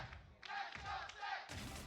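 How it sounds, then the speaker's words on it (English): A spectator in an esports crowd at a G2 Valorant match lets out a loud yeehaw-style battle cry that rises above the crowd noise, followed by another burst of crowd cheering. "Whose yeehaw was that?"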